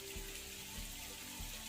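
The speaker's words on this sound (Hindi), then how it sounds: "अब हम इसमें पानी डाल देंगे।" Water is poured into a pot of frying mutton and potatoes in ghee for aloo gosht, giving a soft, steady rushing hiss with low rhythmic sloshing, fairly quiet and close.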